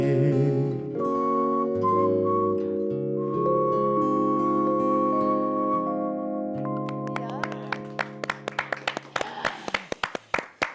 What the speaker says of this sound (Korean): 뒤에 휘파람